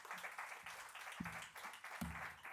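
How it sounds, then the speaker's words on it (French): Audience applause follows a request to clap for the drone company Space Drone Datalink at a startup pitch event: steady, fairly faint clapping from a crowd, with a couple of brief thumps and low voices underneath. "je vais vous demander d'applaudir très fort la société Space Drone Datalink"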